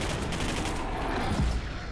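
Dense, continuous gunfire roars through a boss fight against a mutant in the shooter game Singularity, a loud, unbroken burst of shots with no voices.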